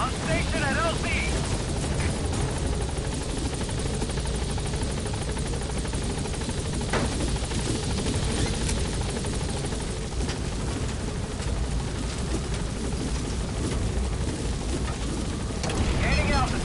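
The helicopter Pequod from Metal Gear Solid V: The Phantom Pain arrives at a landing zone, its rotor and engine a dense, steady whooshing roar that holds nearly constant throughout.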